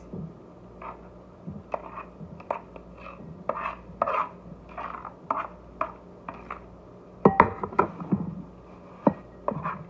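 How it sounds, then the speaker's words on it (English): A knife chopping boiled egg into pieces on a board, a series of irregular close knocks and taps, sparse at first then clustering into quicker strokes near the end, with no talk. "Egg, I've cut it into pieces."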